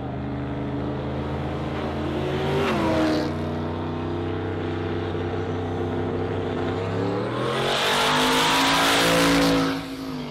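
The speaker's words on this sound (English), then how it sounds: "Troy creeping up on this turbo V8 VL" A turbo V8 VL car makes a drag strip run at Warwick Dragway, its engine note climbing through gears with loud bursts of revving and a roaring pass that fades out at the end.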